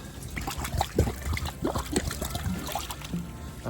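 Spring-fed tilapia pond water from an artesian well is poured or scooped, giving short close splashes and trickles in an irregular rhythm over a few seconds.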